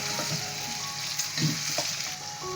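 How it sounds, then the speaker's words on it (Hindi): Goat liver (kaleji) sizzles steadily in a pan with garlic paste, a continuous close frying hiss broken by a few soft stirring scrapes, with no voices. "लहसुन का पेस्ट ऐड करके कलेजी को 2 से 3 मिनट अच्छी तरह इसको उसमें फ्राई करेंगे"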